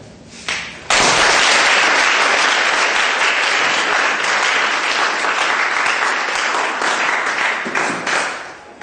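A crowd at a pageant launch event bursts into loud, sustained clapping after a brief quiet start, holding steady for several seconds before tapering slightly at the end.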